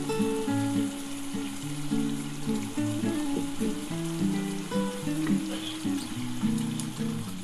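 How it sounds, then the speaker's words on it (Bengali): Parshe fish dropped into hot mustard oil in a pan with green chillies gives a steady, soft sizzle and crackle, fairly quiet, with a clatter of utensils over it and no talking. "এবার আমি মাছটা ছেড়ে দিচ্ছি।"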